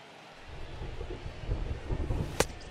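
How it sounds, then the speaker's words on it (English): In the baseball video game MLB The Show 22, rain hisses steadily while thunder rolls in low, swelling rumbles that build toward the end, capped by a sharp crack. "It feels like we might be headed towards a rain delay if the weather doesn't ease up, Chris."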